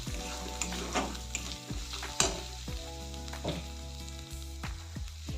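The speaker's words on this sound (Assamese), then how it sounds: "এইখিনি লৰাই দিম আকৌ এবাৰ" Fish with salt is stirred in a hot frying pan: a steady close sizzle runs throughout, broken by repeated scraping strokes of the spatula, with no voices.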